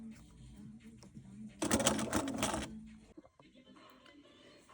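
A sewing machine stitches a hem in one short, close burst of rapid mechanical whirring lasting about a second. Quieter room noise comes before and after it.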